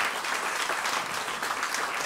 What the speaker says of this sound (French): Est-ce qu'on peut donner une belle acclamation à Jésus ce matin?